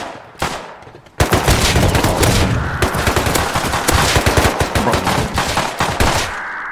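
Rapid automatic gunfire in the survival game Rust, loud and close, a sustained burst of dense overlapping shots after a brief opening volley, continuing for several seconds before easing off.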